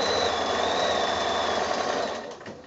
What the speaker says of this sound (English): I'm just going to start sewing right from the edge and all the way along until I get to the next corner